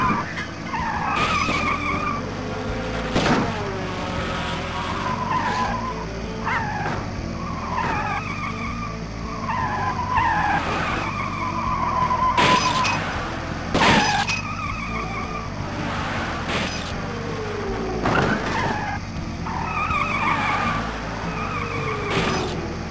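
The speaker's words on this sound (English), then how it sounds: "Contestants, start your engines." Cartoon race cars in the Putt-Putt Enters the Race video game rev and skid off the starting line, with repeated tire squeals and engine whines sweeping past over a steady backing track.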